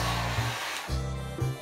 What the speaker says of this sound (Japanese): ということで乾かしていきたいと思います。